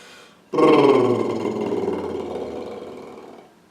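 A sustained voiced lip trill, a buzzing, fluttering hum that starts abruptly and holds steady for about three seconds before fading.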